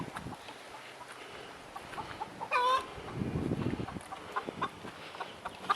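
Backyard chickens cluck and call around a feeder, with scattered clucks throughout, one louder squawk in the middle and faint rustling and scratching nearby.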